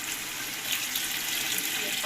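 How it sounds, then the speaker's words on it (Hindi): Water poured into a pot of cooked peas and potatoes while making pulao, a steady, soft splashing stream running continuously at a moderate distance, with no speech over it. "अब इसमें हम ये पानी शामिल कर देंगे।"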